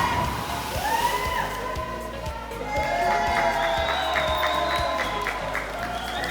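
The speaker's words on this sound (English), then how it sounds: "the whole crowd gave her a big," A crowd at a seven-meter cliff jump by a swimming spot breaks into loud cheering, clapping and whistles, with splashing water and excited voices mixed through the noise.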